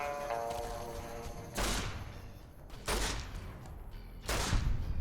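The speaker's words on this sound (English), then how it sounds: "That's a 40mm grenade" 40mm grenade launcher shots in the video game Fallout New Vegas, three separate dull booming blasts spaced over a few seconds, fairly quiet overall, without speech.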